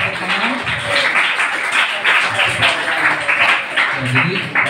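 An audience at a high school assembly claps continuously, a dense, moderately loud patter of many hands filling the hall, with voices murmuring underneath.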